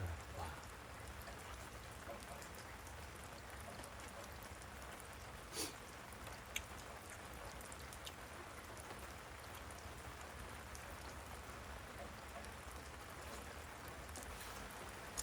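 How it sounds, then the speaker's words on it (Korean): Rain falls outdoors around a wood-fire barbecue as a steady, soft hiss with occasional drips and taps close by, fairly quiet and unbroken throughout. "비가 좀 이제 많이 오네요."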